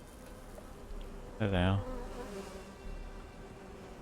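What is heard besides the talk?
bees buzzing in video game Conan Exiles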